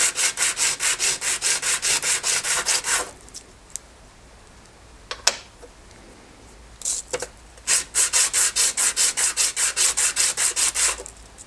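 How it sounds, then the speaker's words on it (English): A sander grinding a brass and wood handle on a beginner-made folding knife, with rapid rhythmic rasping strokes. The strokes stop for a few seconds, leaving a few knocks, then resume loud and close. "The old brass takes the heat when you start hitting it with the sander."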